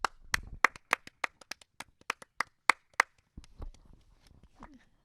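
A small group claps in a home setting: about a dozen sharp, uneven hand claps in the first three seconds, then brief close talk.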